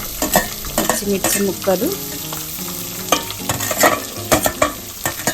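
Onion and carrot pieces frying in a pan for semiya upma, with irregular scraping stirs and clinks over a steady sizzle, close and fairly loud; a voice speaks briefly.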